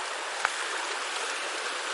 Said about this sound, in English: But this place is literally on the river.